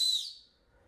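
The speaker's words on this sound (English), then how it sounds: "And this whistle is kind of stupid," A single short, shrill blast from the small survival whistle built into a Buck Selkirk 863 knife, close and piercing, fading out quickly into quiet.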